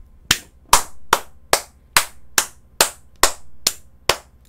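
Ten sharp, evenly spaced claps ring out at a steady beat in a Korean stock-investment sales lecture. They sound close and loud, with no talking over them.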